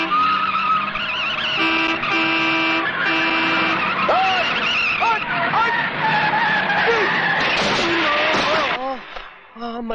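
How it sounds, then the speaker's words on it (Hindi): Car horn honking and tires skidding on a highway in a film scene, with sustained harmonic horn tones, a screeching skid and swooping squeals running loud throughout, mixed under overlapping voices before cutting off near the end. "हॉर्न बजाना सुनाई नहीं दे रहा क्या?"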